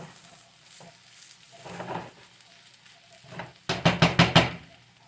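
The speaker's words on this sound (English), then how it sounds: "You don't want to mess with the eggs too much. Want to let it kind of cook on the bottom there." Eggs and beef for a breakfast scramble sizzle and fry in a pan, with soft stirring and spatula scrapes, then a close burst of four sharp knocks or taps against the pan near the end.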